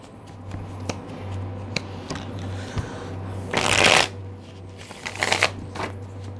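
Haunted House Tarot deck shuffled by hand in two quick riffling bursts, with light card taps and handling sounds around them, close and alone over a low steady hum.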